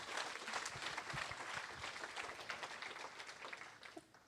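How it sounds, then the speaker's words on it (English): A round of applause at a hackathon closing ceremony, fairly faint and distant, with scattered claps that thin out toward the end. "Let's give ourselves a huge round of applause."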